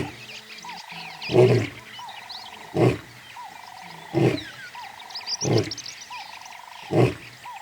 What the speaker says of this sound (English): He announces his presence with a bellowing roar, which can be heard for up to 5 miles